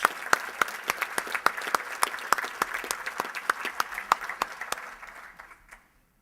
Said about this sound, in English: How about one big round of applause for all our sponsors?